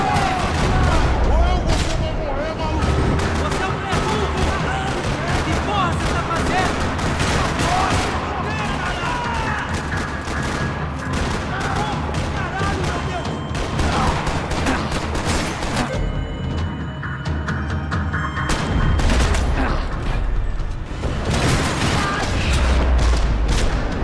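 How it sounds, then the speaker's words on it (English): Heavy gunfire rattles across a parking lot in the video game Max Payne 3, loud bursts of rapid automatic fire and booming shots overlapping continuously with little pause. "Another parking lot rattling with gunfire."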